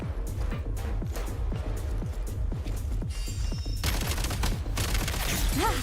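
Spread-shot gunfire from a weapon in Genshin Impact, a rapid volley of loud punchy blasts firing in steady rhythm, with a brief crash and heavier bursts toward the end, no talk over it.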